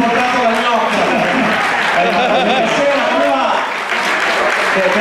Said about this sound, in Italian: Grazie, grazie di questo bel applauso da camera ardente